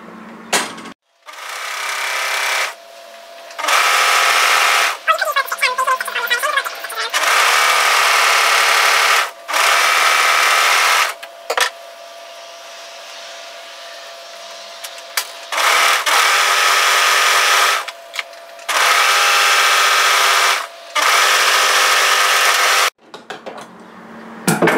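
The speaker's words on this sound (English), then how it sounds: "I'm just going to serge the raw edge and use my plain sewer." A serger overlocks the raw edge of a knit sweater in loud, close bursts of rapid mechanical whirring, several runs separated by short pauses with fabric handling between them.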